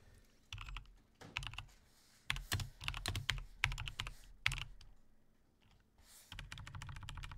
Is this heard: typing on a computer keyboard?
yes